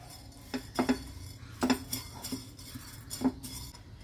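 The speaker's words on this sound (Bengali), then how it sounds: "ধনেটা একটু ছেড়ে দিই, জোয়ানটা দিয়ে দিচ্ছি, নেড়ে দিই" Coriander seeds dry roast over high flame in a pan while a utensil stirs them, making scattered light clinks and scrapes in quick bursts, fairly faint, with no talking.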